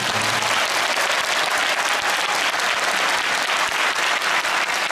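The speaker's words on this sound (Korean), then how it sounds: "박수 한번" An audience at a navy anniversary patriotic concert in the Olympic Hall breaks into dense, loud, sustained applause. The clapping fills the hall evenly with no pause or speech.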